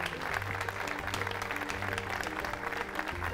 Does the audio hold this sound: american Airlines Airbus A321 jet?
no